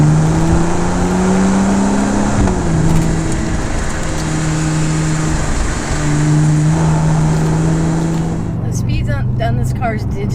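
A 2014 Lotus Evora S in sport mode accelerates hard from inside the car, the engine droning loud and steady with its pitch climbing through several gear changes before easing off, while a person talks over it.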